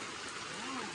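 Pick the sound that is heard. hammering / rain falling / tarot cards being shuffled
rain falling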